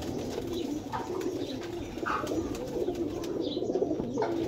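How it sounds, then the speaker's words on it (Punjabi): Flying pigeons coo repeatedly against a steady murmur of background noise, the soft calls rising and falling at moderate distance throughout. "ਬੜਾ ਹੀ ਅੱਛਾ ਕਬੂਤਰ ਹੈ, ਸਹੀ ਵੱਡੇ ਵਜੂਦ ਦਾ ਜਨਾਬ"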